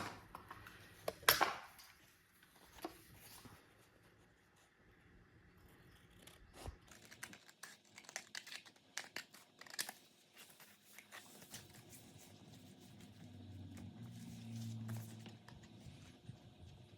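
Scissors snip paper a few times while trimming a junk journal page, with a sharp close cut near the start and soft paper rustling and handling sounds afterward, quiet overall.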